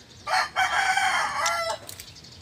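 A young rooster (stag) crows once in a backyard, a single clear, fairly close call lasting about a second and a half with a brief cluck after it.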